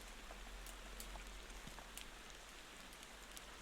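Steady rain in the video game Motor Town, a soft, even patter with scattered drops, continuous and alone with no voices.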